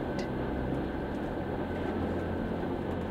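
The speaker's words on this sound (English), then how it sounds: "the sound of its wheels merges into a soft," A train rolling through the night carries a steady, even hum of wheels and carriage noise, broad and constant throughout with faint higher rattles.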